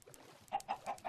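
Chickens released from a Minecraft farm contraption in the video game cluck in a quick series of short, close calls spaced at a steady rhythm over quiet background clicks.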